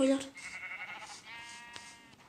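A Minecraft sheep bleats a couple of times in quick succession, close and clear, with faint background noise around it.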